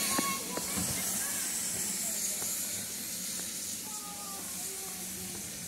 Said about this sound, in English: I think that might be our train.